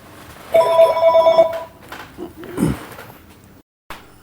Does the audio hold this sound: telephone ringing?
yes